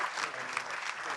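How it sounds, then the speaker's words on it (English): A live audience at a Six Nations rugby preview show applauds John Fox, steady dense clapping throughout, loud and close, with a faint murmur of crowd underneath. "will you please give a massive round of applause to the great John Fox."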